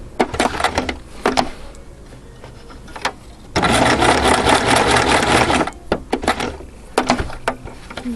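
A domestic sewing machine stitches through fabric for a Sunbonnet Sue appliqué arm and hand, running in short bursts with one long steady run in the middle, loud and close with no talking.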